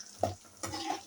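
A spoon stirs a sizzling tempering of spices browning in a frying pan, two short scraping strokes over a soft, steady fry, close by with no voices.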